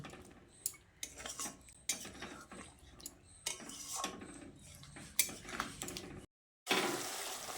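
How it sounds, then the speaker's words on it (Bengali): Fried paneer is stirred into a pan mixture for a vegetarian paneer dish without ginger, onion or garlic. A spatula scrapes and clanks against the pan in uneven strokes over a faint sizzle, with a brief silent gap near the end. "পনিরগুলো দিয়ে সব কিছুকে একসঙ্গে ভালো করে মিশিয়ে নিচ্ছি"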